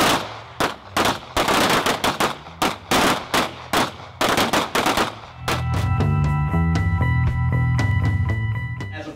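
Firearm gunfire cracks out loud and close in rapid strings of shots for about five seconds, then gives way to a sustained rumbling drone.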